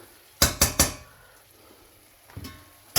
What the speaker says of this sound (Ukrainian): ми беремо ці всі овочі і викидаємо в нашу сковородку